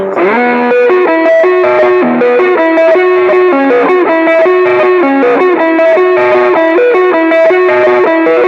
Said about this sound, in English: High gain on the neck position would sound something like this.